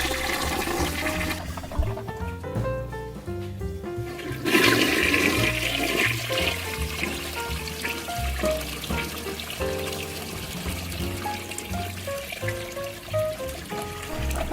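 A toilet flushes with rushing, gurgling water that trickles away, heard alongside tuneful background music.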